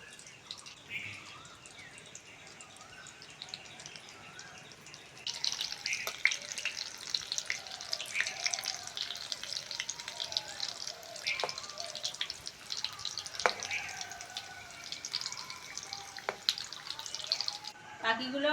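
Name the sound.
puffed rice and egg fritters frying in oil on low heat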